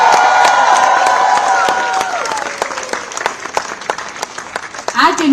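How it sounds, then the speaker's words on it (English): Cheering crowd at India House applauds the friends and fans of the venue, with dense clapping and whoops. A voice and a ringing tone fade out as the clapping thins to scattered claps. "A big round of applause to all the friends and fans of India House"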